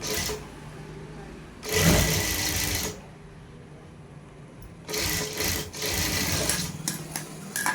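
A sewing machine stitches fabric in two close, moderately loud bursts, a short run followed by a pause and then a longer stretch of rapid whirring.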